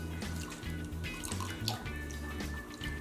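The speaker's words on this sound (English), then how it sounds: "we're gonna pour our lye down the shaft of the stick blender to try to prevent any" Lye solution pours steadily down the shaft of a stick blender into oils for cold-process soap, gurgling continuously close by, with a low whirring hum underneath.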